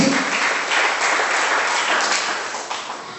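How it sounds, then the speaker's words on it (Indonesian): A church congregation in Indonesia breaks into loud, sustained applause, dense clapping that fills the room for a few seconds and then eases off slightly toward the end. "Beri tepuk tangan yang luar biasa kepada Tuhan. Lebih meriah lagi."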